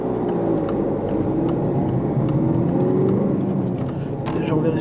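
A car goes by on the left at a road junction, a steady close engine whir and road noise that fills the whole stretch, with no voices.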